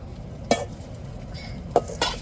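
Rock fish puttu being stirred in a pan, with a few sharp scraping clanks of a utensil against metal over a faint background sizzle, close and with no talk.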